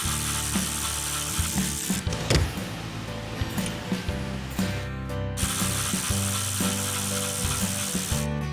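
Ratcheting tool working loose two bolts on the rear wing of a Dodge Charger Daytona, a steady close mechanical clicking with brief pauses between bursts, no talk.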